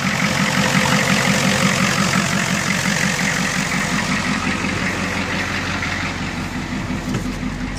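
A 1983 Ford F250 with a 6.9 diesel engine idles close by, a loud steady low rumble with a rhythmic diesel clatter running throughout, with no talking.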